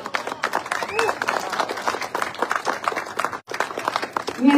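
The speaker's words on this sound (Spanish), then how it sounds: "aplauso para ellas." A crowd at a political event for the Nuevas Ideas party applauds as two women are called up to the stage, steady clapping heard under an announcer's voice and crowd noise.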